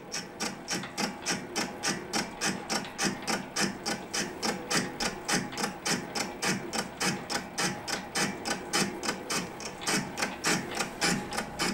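A metal lathe takes fine cuts on an engine flywheel under slow carriage feed, producing a quick, steady train of regular rhythmic ticks and scrapes at close range, with no talking.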